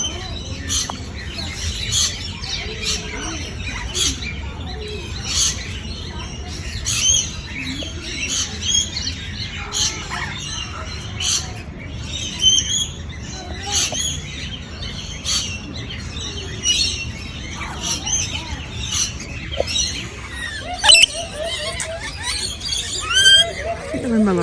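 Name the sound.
hungry birds calling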